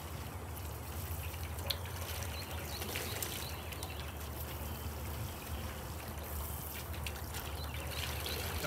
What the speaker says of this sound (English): I'm going to add some water to help accelerate the cooling process.